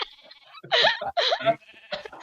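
Sheep bleating in the video game Minecraft, several short nasal bleats following one another, close and fairly loud with no talking over them.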